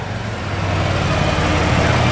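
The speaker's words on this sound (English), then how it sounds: "Sorry for the noise. We have the jump start running." A Harley-Davidson motorcycle runs on a jump start stand at a dealership, a steady loud engine drone with a dense low rumble that fills the moment continuously, without any talking over it.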